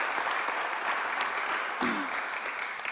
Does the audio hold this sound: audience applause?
yes